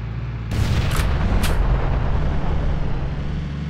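A loud burst of cannon fire in a video game opens a continuous low rumble of engine noise, with a couple of sharp bright cracks following close together.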